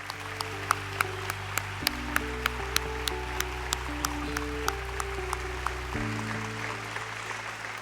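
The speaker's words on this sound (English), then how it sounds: "One more round of applause, please." An audience at a nursing conference plenary session clapping steadily in a large hall, sustained applause over sustained musical tones, with sharper individual claps standing out at regular intervals.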